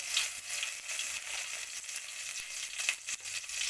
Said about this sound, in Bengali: কড়ার তেল আমার গরম হয়ে গেছে বন্ধুরা এবার আমি কড়াইতে দিয়ে দেবো দুটো তেজপাতা আর দেবো ফোড়ন দিতে হবে দুটো এলাচ আর একটু গোটা জিরে